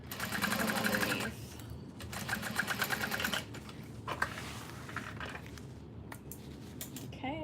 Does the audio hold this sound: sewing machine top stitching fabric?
yes